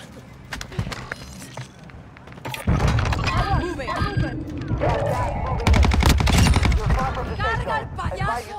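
Submachine gun fire in a video game crackles in repeated rapid bursts amid other game effects, with several people talking and calling out over the shooting.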